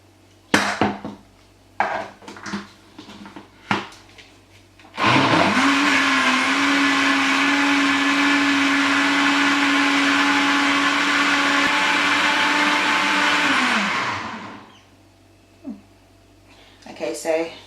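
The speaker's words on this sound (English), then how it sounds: "Okay, so carrots all blended out now. Just going to move my blender back a bit out of the way" A kitchen blender whirs carrots with water for Jamaican-style carrot juice, a loud, steady motor whine running about nine seconds. Talking and clattering come before it starts and after it stops.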